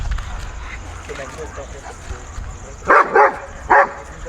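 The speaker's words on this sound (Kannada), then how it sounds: "ನೋಡು ಅದು ಅದನ್ನೇ ಬೊಗಳ್ತೈತೆ" A dog barks three times in quick succession near the end, following quieter shuffling, with voices talking in the background.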